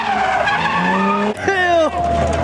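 A Ford Mustang skids hard with loud, wavering tire squeals and engine roar, then a second squeal sweeps up and down, with a voice over part of the noise.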